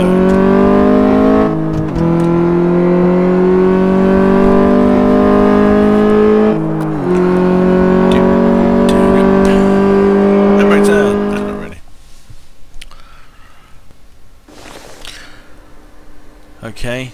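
In Car Mechanic Simulator, a car engine accelerates hard through a quarter-mile drag race, climbing loudly in pitch through several gear shifts, then drops away to quiet after the run.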